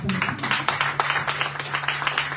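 Congregation clapping in church during worship, a loose rhythmic patter of many hands against a sustained low hum.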